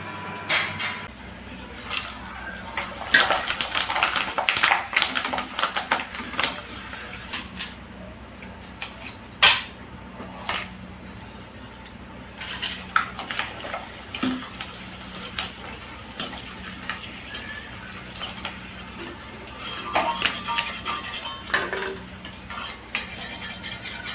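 Potato chips frying in hot oil, a steady crackling sizzle with scattered sharp ticks and light clinks of a utensil against the pan, continuing without pause and with no voices.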